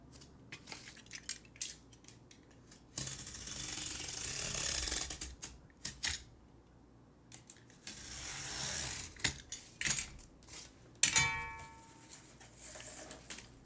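Cardboard being cut down the middle while building a cat's castle: scratchy, ratcheting cutting bursts come in several runs, longest early and again near the end, with clicks and pauses between.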